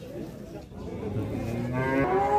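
A dairy cow at a busy suburban livestock bazaar lows in one long, close, rising moo that swells louder toward the end, with crowd murmur underneath.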